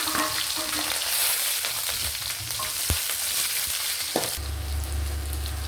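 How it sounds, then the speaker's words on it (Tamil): Small and large onions sautéing in hot oil for a fish curry, a steady dense sizzle throughout with a couple of brief clicks, the frying tone shifting lower near the end. "வெங்காயம் வதங்கிட்டு இருக்குங்க"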